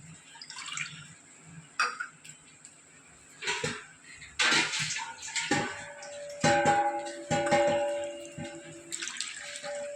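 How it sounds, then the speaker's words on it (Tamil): Water poured from a vessel into a pot while cooking varagu (kodo millet) rice upma, in irregular splashing bursts with some clinks of metal cookware, fairly close, no talking. "தண்ணி எடுத்து அதில் ஊற்றிட வேண்டியதான்."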